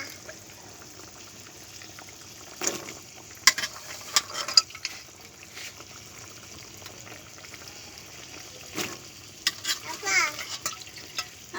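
Jackfruit seeds and potatoes in a frying pan give quiet, steady sizzling, broken by several sharp clatters and stirring scrapes of a utensil against the pan.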